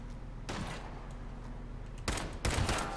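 Pipe pistol gunfire in Fallout 4, with a couple of loud bursts near the end over a steady hum of game background sound, after a brief thud early on.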